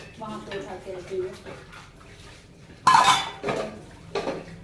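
Dishes, pots and utensils being washed: sharp metallic clanks and clinks in a few bursts, close by, with splashing water and a voice at the start.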